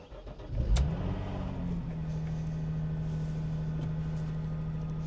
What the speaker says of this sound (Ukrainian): Зараз давайте робити перший запуск, послухаємо, як працює двигун.